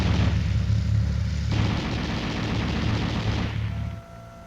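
A 7.62 mm M73 coaxial machine gun on an M60 tank fires long, sustained bursts, a loud, rapid mechanical hammering that runs for several seconds before cutting off.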